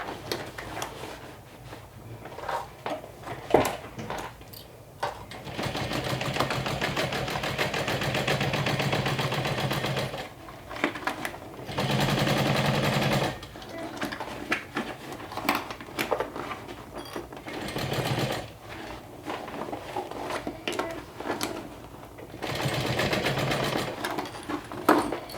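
A sewing machine stitches around the lining of a saddle bag, running in long loud bursts with brief stops between them. The needle's rapid rattle is close and continuous through each run.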